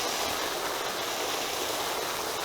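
Liquid fertilizer brew pours steadily into a watering can, a loud, continuous rushing splash with no breaks.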